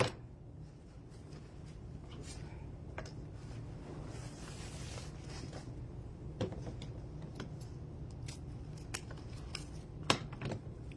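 Scissors snip diagonally through ribbon while a bow is made on a bow maker, giving a few faint, close clicks and cuts over a quiet, steady room hiss with no talking.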